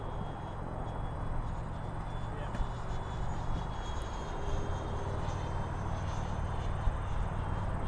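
A 90mm EDF F22 RC jet makes a slower-speed pass, its steady ducted-fan whoosh holding loud and continuous throughout, with a faint tonal whine on top and a few small clicks.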